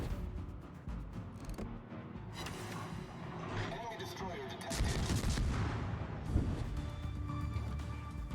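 Naval guns in the World of Warships video game fire at an enemy ship, with booming salvos over continuous rumbling battle noise. The blasts swell louder midway through.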